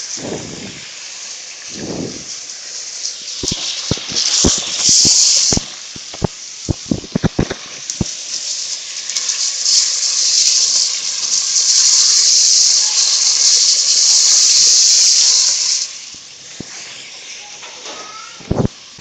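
Goat meat sizzles as it is fried (bhuna) in a pot for white korma, loud, close hissing that swells and fades, broken by sharp clanks of a spoon against the pot.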